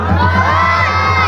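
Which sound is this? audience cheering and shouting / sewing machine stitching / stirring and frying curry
audience cheering and shouting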